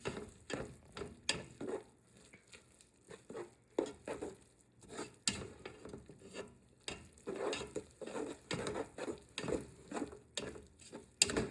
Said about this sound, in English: I'll try to mix it into the rest of the batch.